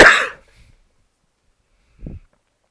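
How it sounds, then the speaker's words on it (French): A person coughs once sharply and close, followed after a pause by a short, softer throaty sound, otherwise silence. "j'étais en train de tousser"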